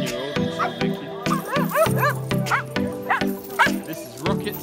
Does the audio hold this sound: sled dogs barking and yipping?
yes